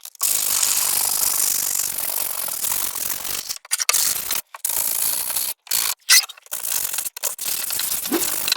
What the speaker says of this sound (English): trying to sand down some of the wood, clean up some of the actual high spots where there's actually adhesive residue